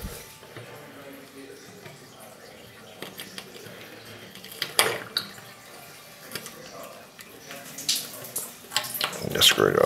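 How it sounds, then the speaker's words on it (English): A loosened shower tap lets out a little water in small trickles and drips, faint and uneven at first, then growing louder and splashier near the end, along with some handling noise. "See, a little bit of water will come out."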